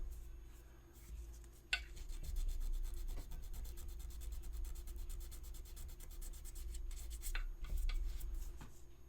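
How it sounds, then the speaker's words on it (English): Steady sanding rubs across a resin Xenomorph Queen statue to smooth a small spot on the mouth, a continuous close scratchy scrape with a brief sharper tick near the start and slight variations in pressure throughout. "Sand it smooth."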